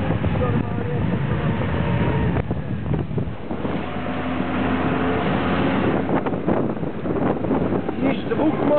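A Trabant car engine revs during a speed test, a buzzing two-stroke drone rising and falling with heavy wind noise on the microphone and speech mixed in.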